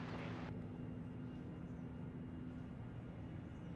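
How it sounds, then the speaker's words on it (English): An Airbus A319 airliner rolls along the runway at Reagan National Airport, a distant, steady, low engine rumble with a faint hiss, fairly quiet and continuous. "Rolling on runway 1, we have American 1253 heading to LaGuardia, an Airbus A319."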